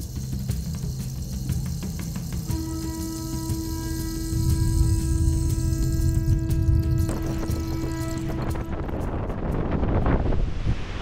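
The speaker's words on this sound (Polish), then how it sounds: "jest bardzo silny wiatr" A strong storm wind roars steadily into the microphone beside Lake Constance at night, loud and continuous with gusty buffeting, while a tonal hum runs through the middle and no one speaks.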